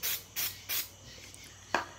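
Paint remover sprayed onto a Chevrolet rim in three short, close hissing bursts, followed by a quieter pause and a brief sharp tap.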